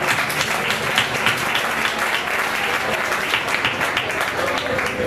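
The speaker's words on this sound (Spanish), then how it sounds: "Un fuerte aplauso para él." Audience at a live concert applauding loudly and continuously, a dense wash of clapping that holds steady throughout.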